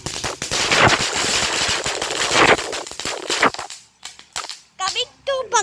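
Firecrackers burst in fast, crackling volleys close by, dense popping for several seconds that then thins into sparse separate bangs, with brief voices in the pauses.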